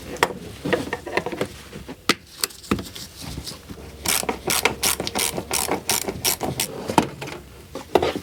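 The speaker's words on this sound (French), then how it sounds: "je vais essayer de dévisser tout ça, gratter et reconnecter" A ratchet works on a rusty, oxidised alternator nut on a car: close, rapid metallic clicking in repeated strokes, sparse at first and then a dense, steady run of ratchet clicks.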